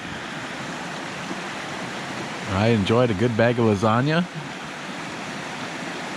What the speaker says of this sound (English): I don't know if you can hear me over the sound of this water